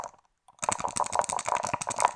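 Dice from a roleplaying collection, including many-sided ones, clatter and rattle as they are shaken in a cup, a dense run of close, fairly loud clicks after a brief near-silence.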